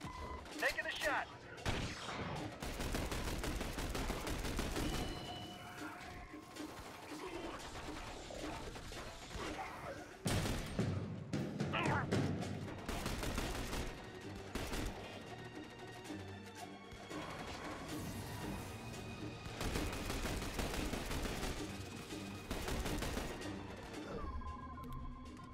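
Gunfire in The Bureau: XCOM Declassified, a tactical shooter, rings out in dense bursts and repeated shots through a loud, busy battle mix, with sharp crashes and voices calling out orders.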